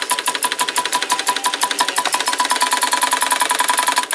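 A Dressmaker Super De luxe zig zag sewing machine runs steadily on its own, its needle mechanism chattering in a fast, even rhythm of clicks throughout.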